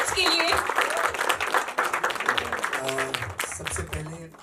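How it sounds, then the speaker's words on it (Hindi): An audience at a Marathi film trailer launch attended by top Bollywood directors bursts into loud, dense applause that carries on steadily, with a voice speaking over it toward the end. "एक बार जोरदार तालियां इन लेजेंड्स के लिए।"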